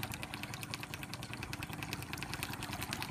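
A Hayward Tristar variable-speed pool pump runs at 2,500 RPM with a steady mechanical hum and faint rhythmic whirring, constant and moderately quiet, alone with no talk.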